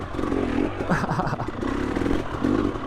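A two-stroke dirt bike ridden in second gear buzzes and bogs through a short stretch, engine rising and falling with scraping and clattering, fairly close and loud, no talk.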